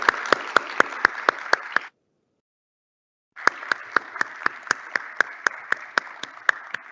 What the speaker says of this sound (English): let's have a round of applause for our amazing panelists